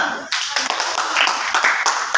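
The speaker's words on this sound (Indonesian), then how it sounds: "Iya, tepuk tangan." A classroom of students clapping hands together, a dense steady patter of claps running throughout with a teacher's voice mixed in.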